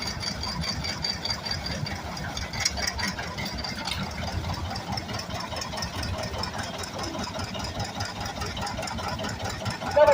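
A 1950 John Deere Model B tractor engine runs at an antique tractor show, a steady mid-loud chugging rumble with a knocking rhythm continuing throughout amid outdoor background noise.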